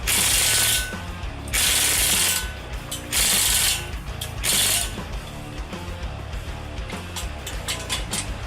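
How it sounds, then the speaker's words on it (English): A ratchet cranks down a rotisserie mount in four or five bursts of close, crisp clicking, with short pauses between them against a low background hum. "So I'm going to tighten this down to where it's just barely touching."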